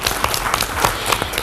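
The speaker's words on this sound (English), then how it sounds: "give yourself a round of applause" A crowd at a school quiz competition between two Adventist schools claps steadily, with individual hand claps audible through the dense, moderately loud applause.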